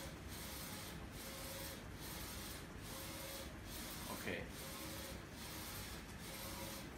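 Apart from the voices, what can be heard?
DTG T-shirt printer running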